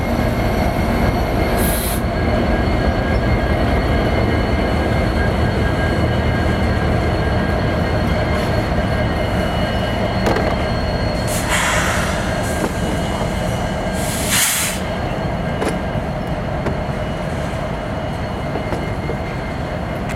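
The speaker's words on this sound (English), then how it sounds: "I have no idea what train this is." A BNSF freight train rolls past continuously and loudly, with steady rail rumble, wheel clatter and occasional high wheel squeals, and no talking.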